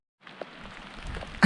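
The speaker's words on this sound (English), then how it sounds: "now it's proper raining outside" Steady rain patters on surfaces outdoors in the Scottish Cairngorms, a soft continuous hiss with scattered drops that builds slightly toward the end, near and without talk.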